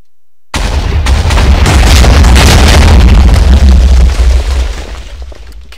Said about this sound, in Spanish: Qué bonitos juegos artificiales.